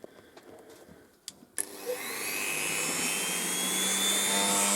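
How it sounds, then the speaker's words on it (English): A Dremel rotary tool cuts into steel with a loud, steady high-pitched whine that starts abruptly after a short quiet stretch of small knocks and handling sounds, then holds a continuous grinding scream. "When you're using your Dremel, like I say, you'll see all the sparks flying off"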